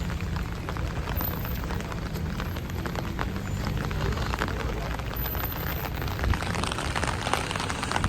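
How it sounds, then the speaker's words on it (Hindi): Steady rain falls continuously on a park in Vancouver, a dense unbroken hiss with a low rumble underneath, close and fairly loud throughout. "बारिश मुसलसल हो रही है"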